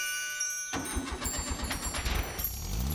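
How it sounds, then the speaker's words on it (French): Cartoon car engine starting up after silence, cranking into a steady sputtering run, rhythmic and close, alone. "Et pourtant la voiture démarre."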